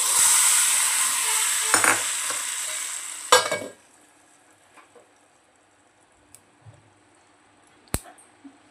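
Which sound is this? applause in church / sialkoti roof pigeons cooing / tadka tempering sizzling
tadka tempering sizzling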